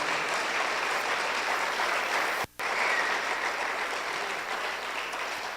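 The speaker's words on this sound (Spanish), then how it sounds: "Dele un aplauso al Señor porque Él es bueno." Congregation applauding in a church service, a dense, steady wash of clapping from many hands that fills the whole stretch, with a brief cut near the middle and no talk.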